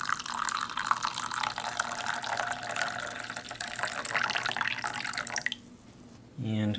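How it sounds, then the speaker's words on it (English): Hot water poured for a cider drink from a military MRE ration kit, a steady close splashing stream that cuts off abruptly near the end, followed by a short higher-pitched filling trickle. "Alright, hot water for the cider."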